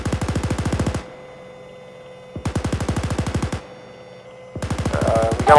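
Coaxial machine gun on an M1A1 Abrams tank in the video game ArmA 3, firing three loud, rapid sustained bursts separated by short pauses, each a tight rattling stream of shots.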